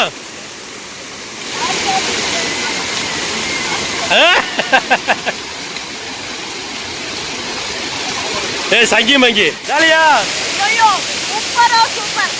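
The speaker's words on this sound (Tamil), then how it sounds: "தண்ணி பாருங்க தலைவா, சும்மா வேற லெவலில் தண்ணி கொட்டுது" Water pours at Kodiveri waterfall in Erode in a loud, continuous rushing roar, with people talking and shouting close by over it.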